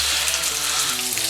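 Crucian carp frying in a pan of oil, a steady, loud, dense sizzle throughout with faint tonal hums in the background.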